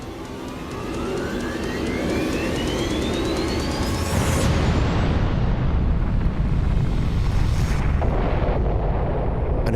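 A massive explosion detonated over Hiroshima, a 15,000-ton TNT atomic bomb blast, rendered as a loud, sustained deep roar with a rising whine that swells into a continuous rumbling boom and stays heavy to the end.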